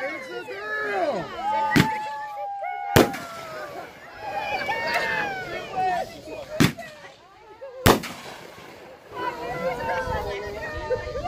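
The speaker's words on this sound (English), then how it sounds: "That was like a firecracker." Sharp firecracker bangs go off at an outdoor gender reveal, four loud separate cracks spaced a few seconds apart, under excited cheering and chatter from a crowd.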